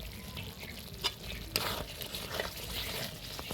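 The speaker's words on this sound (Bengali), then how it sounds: "ভালো করে মশলার সাথে কষিয়ে নিব।" Masala, fried carrot, capsicum and chopped tomato are stir-fried together in a pan, with soft sizzling and scraping stirs and a few sharp clinks of the spatula against the metal, all fairly quiet.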